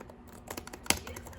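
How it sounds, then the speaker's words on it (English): A short run of crisp keystrokes on an Acer Chromebook Spin 311's clicky keyboard, a few light taps followed by one sharper, louder click, close and alone without any talking. "the keyboard itself has the same button as all the other Chromebooks, and seems very clicky"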